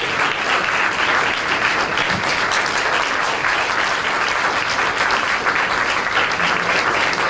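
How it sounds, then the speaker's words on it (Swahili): Sustained applause from a large standing audience at a CRDB bank leadership programme launch as the managing director walks to the podium, a thick, even wash of many hands clapping for several seconds without talk. "Ukiendelea kupiga makofi mpaka akafika hapa utakuwa hujakosea sana"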